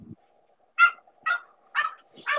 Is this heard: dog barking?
yes